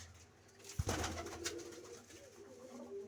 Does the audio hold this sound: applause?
no